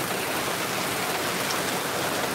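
Heavy thunderstorm rain pours in a dense, steady hiss, loud and close with no let-up and no voices.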